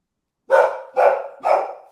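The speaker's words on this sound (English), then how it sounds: "My dog's barking right now." A dog barks three times in quick succession, loud and close, each bark evenly spaced and clear against silence.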